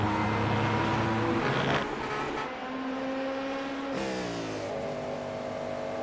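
A race car engine revs high and climbs through the gears while accelerating out of a corner, with rising pitch and quick shift drops, loud and close throughout.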